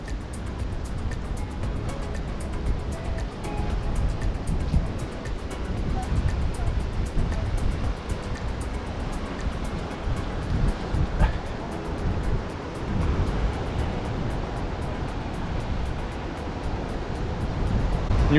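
Ocean surf rolls and washes steadily at the beach in Mirissa, a broad continuous rumble of breaking waves mixed with gusty wind on the microphone, with no distinct voices.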